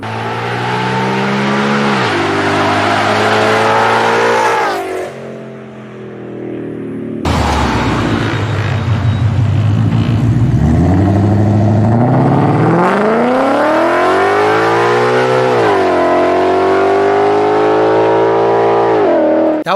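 A car with an inch-and-seven-eighths ultimate header, X pipe, Cooks catback exhaust and a cam lobed idle tune, revving loud and close. The engine climbs and falls through several throttle blips, with a choppy, lumpy idle between them.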